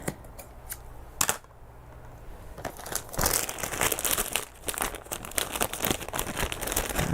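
A bag crinkles as it is handled during backpack sewing work, with irregular bursts of rustling, some sharp crackles and quieter stretches in between, close by and with no voices.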